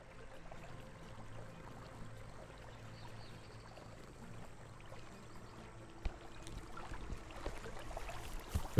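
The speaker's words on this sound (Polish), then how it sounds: "Jakaś woda pluska" Water splashes and trickles steadily in the game Achilles: Legends Untold, a soft continuous flowing and pouring sound with occasional sharper splashes toward the end.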